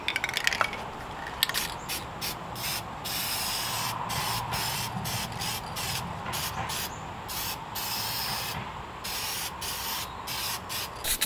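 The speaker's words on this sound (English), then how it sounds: "I am gonna complete the look with some paint for plastic" A spray can of paint for plastic sprays a plastic surface in steady bursts of hissing, with short pauses between passes, close and fairly loud with no talk.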